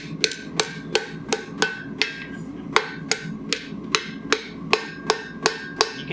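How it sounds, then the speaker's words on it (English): A rounding hammer strikes metal in a steady string of about sixteen sharp, ringing blows, close and loud, with no talking. "You can take a rounding hammer and just hit that in right there."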